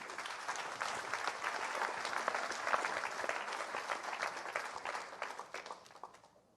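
Audience at a rural organizing panel on fighting polarization breaks into a steady, sustained round of applause, dense clapping filling the room before tapering off at the end.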